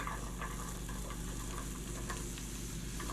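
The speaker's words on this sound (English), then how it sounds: "let's add in some onions" Onions frying in a stainless steel pan, giving a steady, even sizzle with faint crackles and occasional stirring taps, fairly quiet and heard alone.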